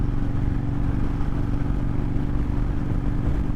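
Steady drone of a motorcycle engine while riding a five-speed bike, a constant low rumble held at an even pitch for a few seconds with no voices.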